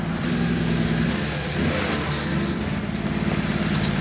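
A hay truck's engine labors uphill in a low gear, a loud, steady, rough droning roar with tires losing traction, sustained without a break throughout.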